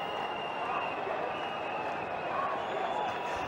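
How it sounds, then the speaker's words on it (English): An Indian cricket crowd at a one-day international roars in a steady, dense wash of distant cheering and applause, continuous and unbroken for the whole stretch. "The Indian crowd. Are roaring."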